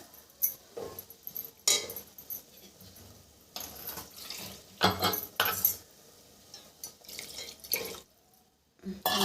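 Water is added to a cooking pot for a fish curry, heard as intermittent close splashes and pours mixed with clinks of a utensil against the pot and short drips.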